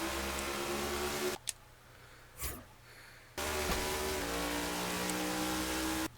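Next-gen stock cars from NASCAR 21 Ignition roar past in a loud, steady engine drone, with a short quiet gap and a whoosh before the pack's sustained high revving returns, and no talk.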